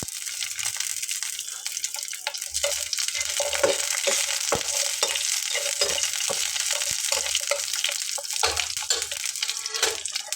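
Poppy seeds with dried and green chillies fry and get stirred in a pan on low heat for a steady, close sizzle. Scattered scrapes and clinks of the spoon come through the whole time, with no talking.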